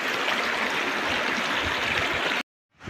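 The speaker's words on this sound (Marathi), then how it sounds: "जिकडे तिकडे पाणीच पाणी खळखळणारे झरे" Steady broadband rushing of water, like a babbling stream swollen by rain, continuous and fairly loud before cutting out abruptly near the end.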